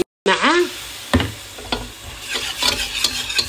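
Béchamel sauce with cheese stirred continuously in a pan as milk is poured in gradually, giving a brief liquid pour followed by repeated spoon scrapes and clinks over a soft bubbling sizzle, close by.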